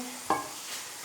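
Tomato paste stirred into masala frying in a pan for a dhaba-style aloo bhujia, a single scrape with a brief sizzle, soft and close, with no talking.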